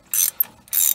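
A thread repair tool ratchets back out of a VW wheel hub, giving two quick close clicking ratchet bursts within a second.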